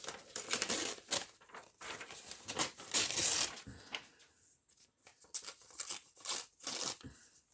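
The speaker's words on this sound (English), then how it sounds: "I am going to cut a bit of my magazine page." Scissors snipping through a glossy magazine page for scrapbook crafting, a few crisp cutting strokes in short bursts with quiet pauses between them.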